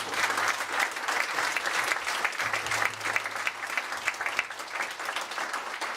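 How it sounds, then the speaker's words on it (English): Sustained audience applause at the close of a public discussion event, a thick, even wash of many hands clapping that holds steady throughout with no voices rising above it. "One more round of applause."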